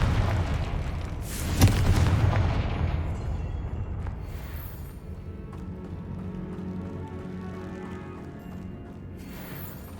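A Confringo fire spell blasts off in Hogwarts Legacy, a loud booming burst near the start followed by a rumbling, crackling tail and lingering low roar, with another sharp impact at the very end.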